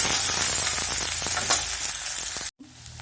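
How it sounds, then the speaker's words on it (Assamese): Onions frying and sizzling in hot oil in a pan, with sugar and turmeric added for a local chicken curry; a steady close sizzle with scraping stir strokes, broken by a brief silence near the end. "মই ভালদৰে লৰাম, পিঁয়াজখিনি ৰঙা নোহোৱালৈকে মই ভালদৰে লৰাই থাকিম।"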